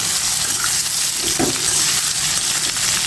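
Potatoes with onion and chili sauté in a pan, giving a steady close sizzle and hiss with a brief stirring scrape partway through.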